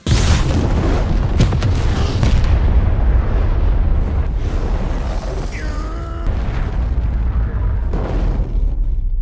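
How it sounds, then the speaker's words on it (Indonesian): A gas cylinder blows up in a dramatized fight scene: a loud, booming blast with a heavy low rumble that rolls on for several seconds, with crackling debris and no voices. "Kembali tabung gas meledak."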